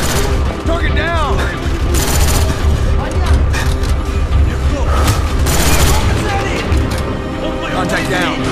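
Sustained gunfire in the Call of Duty Black Ops video game: rapid automatic bursts and heavy booms, loud and close, with the densest volleys near the start and middle, mixed with shouted voices.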